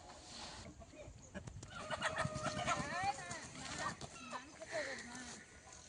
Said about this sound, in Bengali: মুরগিগুলোকে মা আর বাবা মিলে ঘর থেকে বার করে নিয়ে আসছে